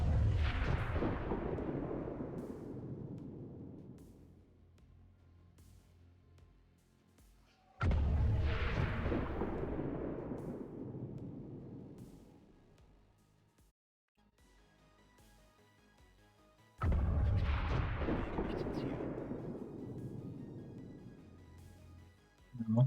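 Heavy gunfire and explosions in the strategy game XCOM 2: War of the Chosen, three loud booming blasts several seconds apart, each trailing off into a long rumbling decay.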